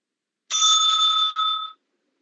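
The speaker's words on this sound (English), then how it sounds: "The bell will be ringing again" A debate timekeeper's bell rings once, a bright sustained ring lasting about a second with a brief break before a shorter second ring, loud and clear with no talking.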